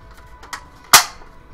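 A plastic shell of a Rayven toy blaster stock snapping shut: a soft click followed by one sharp, loud clack, close up and alone.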